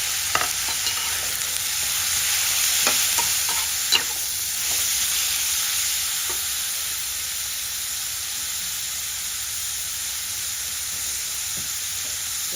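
Fresh bamboo shoots, roasted and boiled beforehand, stir-fried with egg in a pan, giving a steady close sizzle with scattered scraping stirs and clinks, louder early on, then settling to a constant hiss.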